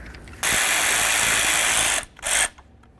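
Ratchet wrench ratcheting a T30 bolt out of a 2005-14 Ford Mustang door panel, a loud steady run of rapid clicking for about 1.5 seconds, then a brief pause and a second short burst, close and alone.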